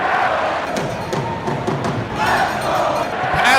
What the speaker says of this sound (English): All the fans give him a huge round of applause.